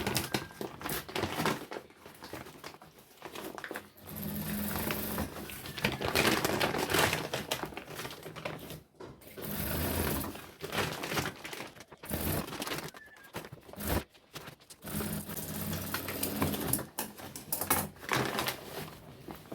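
A sewing machine stitches sack fabric into a storage bag, its rapid mechanical clatter running steadily for most of the stretch, with brief pauses and rustling of the stiff material between bursts.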